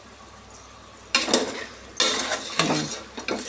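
Chicken curry ingredients fry in oil in a pan while a utensil stirs and scrapes through them, giving a low sizzle under loud, irregular bursts of metal-on-pan clatter close to the microphone.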